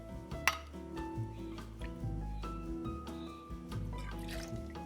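Rum is poured from a measure into a blender jug, a brief liquid trickle and splash among light clinks of glass and metal, close and soft.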